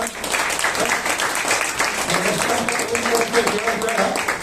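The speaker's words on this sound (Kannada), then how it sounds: "ಜೋರಾಗಿ ಚಪ್ಪಾಳೆ ತಟ್ಟೋಣ" A church congregation at a Sunday Kannada worship service claps together, a steady mid-loud patter of many hands lasting the whole stretch, with voices murmuring underneath.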